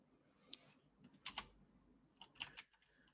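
Typing on a computer keyboard at a desk: faint, close clusters of key clicks come in three short bursts separated by quiet gaps.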